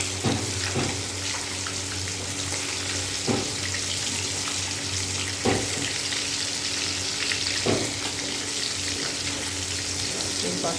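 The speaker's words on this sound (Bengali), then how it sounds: "এই পাশটাও এরকম লাল লাল করে ভেজে নেব।" Fish frying in hot oil in a home kitchen, a steady sizzle running throughout with a few louder spatters and clatters of turning, and faint room noise underneath.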